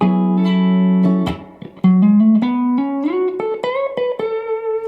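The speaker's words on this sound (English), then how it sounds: "that's your typical minor pentatonic lick" An electric guitar plays a quick minor pentatonic lick of single notes, starting with a held bent note, then climbing in short plucked steps, clean and close.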